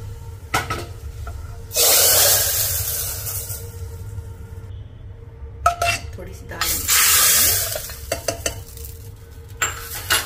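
Hot tadka of curry leaves, coriander and red chilli powder poured into onion sambar dal, giving two loud bursts of bright hissing sizzle separated by clinks of pots and utensils, with no talk.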